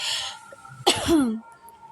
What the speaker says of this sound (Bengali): আমার প্রচণ্ড কাশি হচ্ছে